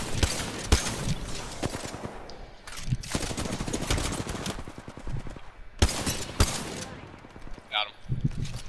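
Rapid automatic gunfire in the video game Apex Legends comes in several loud bursts with brief pauses between them, up close, with a player's voice talking over the shooting.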